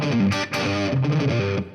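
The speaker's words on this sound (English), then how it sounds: "I think it's got a little bit of that distortion kind of sound." An electric guitar plays a short, heavily distorted phrase, loud and close, with a fuzzy, gritty tone on its sustained notes and no talk over it.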